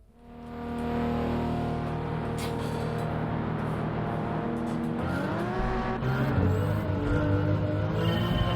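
An engine-swapped race car in Gran Turismo 7 launches from a start, its engine climbing through the revs with gear changes and brief tire squeal, loud and close over a crowd of other cars, with no speech.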